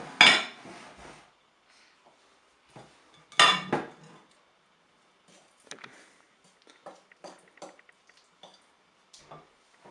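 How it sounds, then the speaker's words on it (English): Peeled bananas are mashed in a bowl with a utensil, giving scattered clinks and scrapes against the dish, with a couple of louder knocks early and softer, irregular taps after, close up. "peel the bananas and put them in a bowl to mash them"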